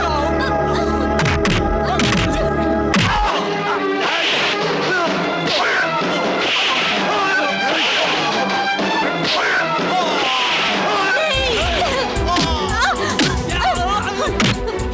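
Loud movie fight with blows and smashing impacts landing over a dense, continuous action soundtrack, with raised voices mixed in throughout.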